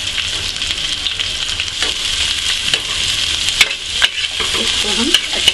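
Chopped onion fries in a pan with green chilli, a loud, continuous sizzle up close with frequent stirring scrapes and clinks against the pan, and no voices.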